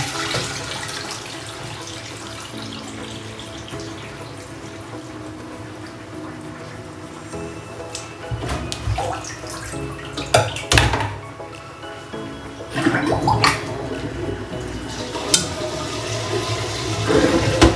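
Running tap water splashes and gushes, swelling louder in bursts as cabbage for kimchi is rinsed beneath it.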